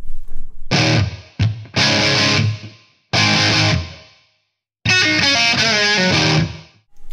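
Electric guitar played through a Cubase amp simulator preset, heavily distorted, rings out in loud sustained chords and riffs separated by brief silences, ending on a vibrato-laden held phrase.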